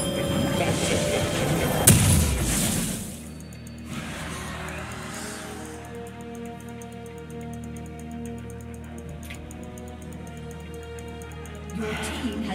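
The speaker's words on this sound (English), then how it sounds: "I managed to miss every single bomb there." Bomb explosions in League of Legends gameplay: a loud boom and crash early on, then a quieter, sustained rumble with faint game effects.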